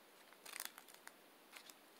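Scissors snip through folded paper in a few quick, crisp cuts, heard close and quiet with no voices.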